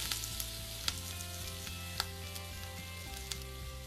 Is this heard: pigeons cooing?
no